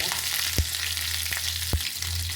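Green chilli frying in hot oil for tempering, a continuous close sizzle with a low hum underneath and two brief knocks.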